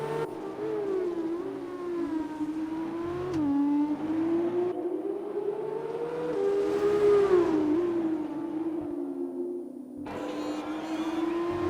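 F2 race car engines in an Xbox racing game at the Azerbaijan Grand Prix, a continuous whining drone that rises and falls in pitch as the cars accelerate and brake, fairly quiet and steady with no voices.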